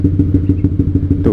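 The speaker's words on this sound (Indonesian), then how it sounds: "idol knalpot gue aja duk duk duk duk duk duk, kan gede banget ya kan suaranya." A Honda CBR150R motorcycle with an aftermarket exhaust idles close by, its deep, pulsing rumble thumping in an even rhythm of about seven beats per second.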